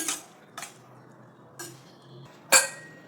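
A utensil scrapes and clinks against a metal pot a few times, stirring ivy gourd with water, in short separate strokes with quiet pauses between.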